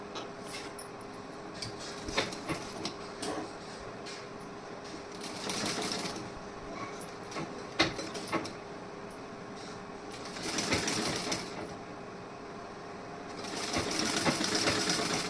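A sewing machine runs in several bursts of rapid mechanical whirring and clatter while joining a fabric strip to its lining, with quiet pauses and small knocks between runs and no talking.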